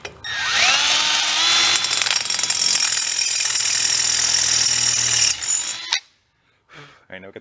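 A drill bit grinds loudly and steadily into a busted stud for about five seconds, then cuts off and falls quiet, followed by a brief clatter.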